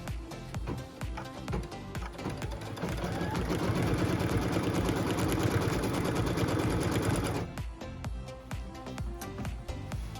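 A sewing machine stitches down a quilt block piece, its close, rapid mechanical chatter running for several seconds before stopping, with clicks and handling noises before and after the run.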